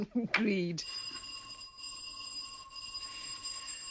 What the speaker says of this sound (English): I do believe that is the doorbell